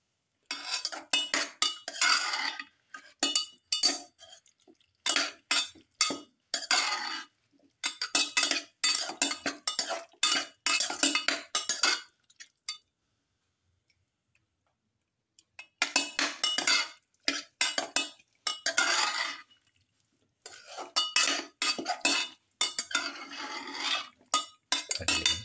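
A utensil stirs a shrimp mixture in a pot, scraping and clinking against the metal in quick bursts, broken by a few seconds of silence.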